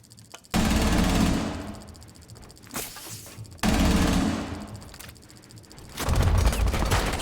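Rapid bursts of automatic gunfire in a video game match replay, with two long, loud volleys and a shorter one near the end, each fading into echoing decay, with no talk.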